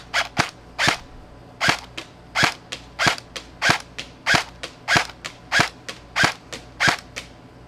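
A modified G&G Combat Machine airsoft gun fires single shots in a steady rhythm, about a dozen sharp, close pops spaced roughly half a second apart with quiet gaps between.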